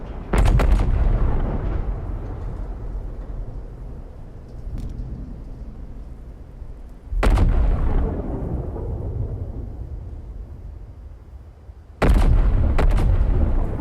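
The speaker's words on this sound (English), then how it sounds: "I'm hearing explosions there" Explosions in the video game Mechanicus 2, three heavy booming blasts spaced several seconds apart, each with a deep rumbling decay that lingers before the next.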